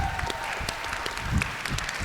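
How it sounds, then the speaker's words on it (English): Applause for a school staff member at a Lahore school production of Charlie and the Chocolate Factory, a steady dense wash of clapping from the audience sustained throughout, with a faint voice underneath. "So another round of applause."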